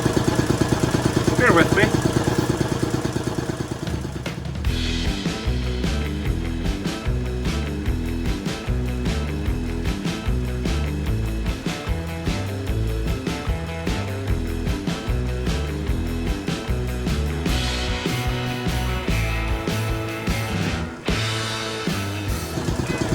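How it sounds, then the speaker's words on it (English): A garage air compressor kicks on and runs near a 1936 Chevy coupe, a loud, steady mechanical drone with a fast pulsing beat, and someone speaks briefly over it. "Compressor just came on, sorry."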